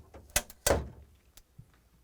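A plastic crisper drawer on an LG/Kenmore refrigerator slides into place, two quick knocks followed by a louder sliding thud, then a few faint taps and rattles.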